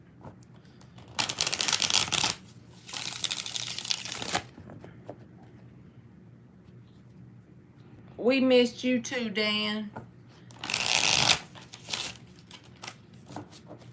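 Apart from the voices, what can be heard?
tarot cards being shuffled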